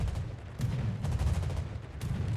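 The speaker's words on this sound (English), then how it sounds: "Comes in for a rocket strike on the Kremlin" Rapid bursts of gunfire and booming impacts from a rocket strike on a ship in World of Warships, a dense rumbling barrage with sharp cracks recurring through the stretch.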